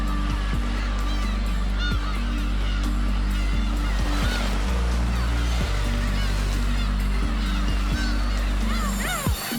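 Black-tailed gulls call over a garbage heap: many overlapping honking, squealing cries rise and fall continuously against a dense, constant background roar.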